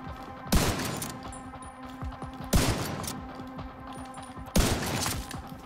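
Gunfire from Tom Clancy's The Division 2, with three loud sharp shots about two seconds apart, each followed by a decaying rumble over steady game ambience.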